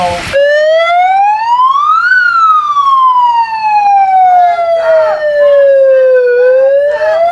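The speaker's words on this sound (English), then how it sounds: "She gonna cut the siren on." A loud police siren wails continuously, its pitch sweeping slowly up and down, close and dominant, with faint voices in the background, at a street protest in Minneapolis in 2014.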